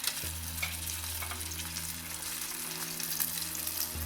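Battered spare ribs deep-fry in a pot of oil, a steady close sizzle and bubbling that runs unbroken throughout, with a low hum underneath and no voices.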